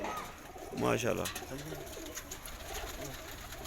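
Amber-headed pigeons coo in soft, low bursts near the start, while someone speaks briefly over outdoor rooftop background noise.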